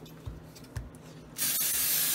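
Cooking spray hisses into a casserole dish in one loud, steady burst that starts partway through and keeps going to the end, after a couple of soft knocks.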